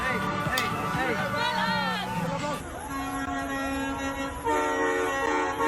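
Horns honk repeatedly over a noisy crowd, some long sustained blasts layered with cheering and chatter outdoors.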